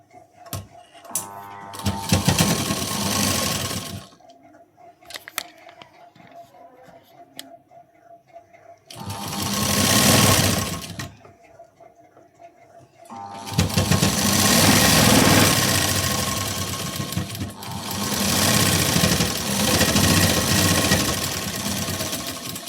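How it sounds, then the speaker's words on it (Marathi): Sewing machine stitching a blouse seam: loud whirring runs of stitching in several bursts, one short, one mid-length and a long steady stretch at the end, with quiet pauses between them. "आता इथे मी शिलाई देऊन घेते."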